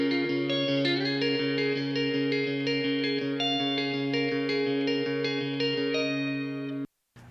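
An electric guitar recorded through two microphones with no effects plays sustained chords with picked notes, full and clear, then stops abruptly near the end before a brief final strum.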